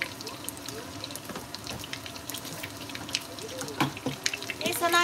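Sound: running tap water while washing dishes

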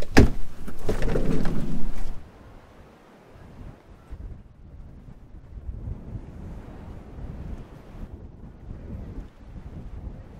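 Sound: strong wind on Cornwall coast

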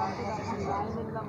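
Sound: mare neighing

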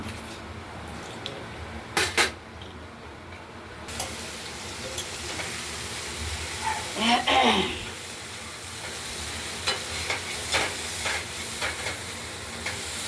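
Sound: thin pumpkin strips frying and being stirred in a pan

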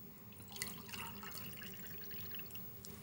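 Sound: drink being poured into a glass

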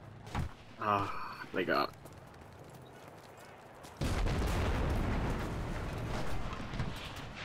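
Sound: grenade explosion in the video game Enlisted

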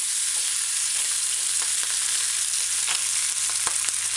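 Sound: ham frying in a pan on the stove

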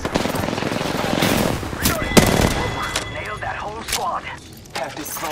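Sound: gunfire in the video game Apex Legends

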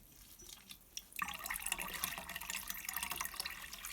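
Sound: rinsing beeswax in warm water

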